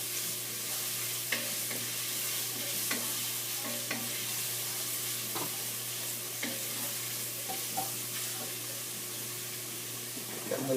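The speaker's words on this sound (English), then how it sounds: "I'm just sweating down these onions and garlic and Kalamata olives, to start the base of the sauce." Onions, garlic and Kalamata olives sweat in a pan as the base of a pasta sauce, giving a steady, even sizzle that runs the whole time with a few soft clicks and utensil taps scattered through it.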